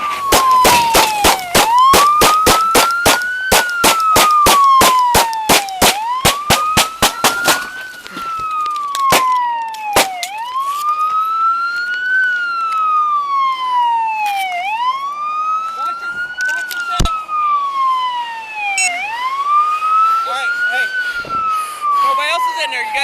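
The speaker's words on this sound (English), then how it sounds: "Go kill your siren." A loud video game police car siren wails on and off, switching between fast yelping bursts and slower rising-and-falling sweeps, close by throughout.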